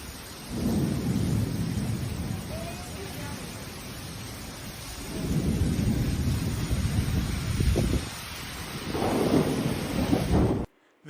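A thunderstorm with steady rain hissing throughout and three deep rolling rumbles of thunder swelling and fading one after another, close and loud, before it cuts off abruptly.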